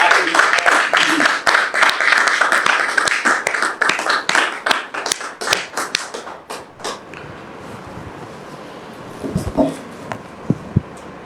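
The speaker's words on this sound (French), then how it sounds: "de la recevoir sous vos applaudissements" An audience gives loud, dense applause to welcome a guest on stage, then the clapping thins to scattered claps and fades, with a few stray sounds near the end.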